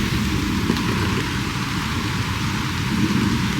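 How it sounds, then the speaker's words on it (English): Steady, heavy rain falls outdoors in woodland during deer season, a dense continuous hiss with a low rumble beneath, constant in loudness and without talk. "it's starting to rain harder"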